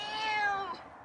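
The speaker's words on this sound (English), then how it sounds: "Wow, that's a meow." A feral cat meows once up close, a clear drawn-out call of about a second that rises and then falls away, on a warm, pleasant day outdoors.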